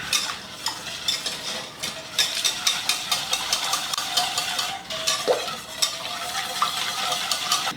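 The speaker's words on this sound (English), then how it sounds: "let's add all this fresh juice. All right, now let's just whisk it up" Fresh juice is whisked in a bowl, a steady rhythmic scraping and tapping of the whisk against the sides, close and fairly quiet, over a faint background hum.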